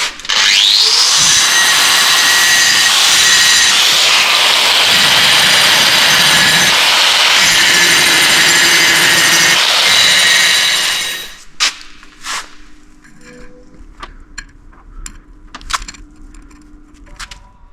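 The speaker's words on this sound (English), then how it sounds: "Then we'll find our trusty angle grinder." An angle grinder cuts through a BMX race bike frame during a tandem conversion, a loud continuous screaming grind for about eleven seconds before it winds down, followed by scattered metallic clinks and handling noises.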